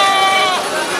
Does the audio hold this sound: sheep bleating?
yes